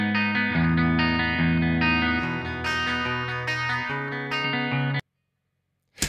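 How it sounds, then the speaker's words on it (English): Distorted punk electric guitar run through a Hybrid Reverb cabinet simulation in Ableton Live 11 plays loud sustained chords for about five seconds, then cuts to silence before a brief burst at the end. "listen to the difference with and without a Hybrid Reverb cabinet simulation"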